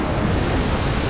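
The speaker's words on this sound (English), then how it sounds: "most beautiful waterfall we've seen" A rushing waterfall in Chiang Mai, Thailand, roars as a loud, dense, continuous wash of water noise with no talking.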